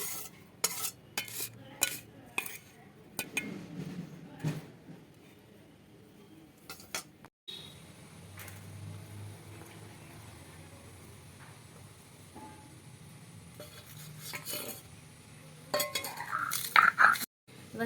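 Metal utensils scrape and clink against a pan as fried ingredients are lifted out in a home kitchen, giving scattered, fairly faint taps and clatters with quiet pauses between them.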